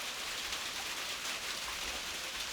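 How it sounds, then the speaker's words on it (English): Steady rain falls around an off-grid cabin during outdoor woodworking on stair railings, a constant broadband hiss and patter with no voices. "And it's raining."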